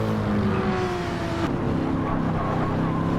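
A BMW race car in a GT racing video game, its engine droning loud and steady with a shifting pitch, holding a constant roar with no voices over it.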